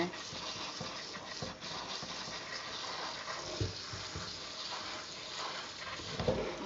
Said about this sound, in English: So just gonna rinse that down just to kind of rehydrate what I've dried out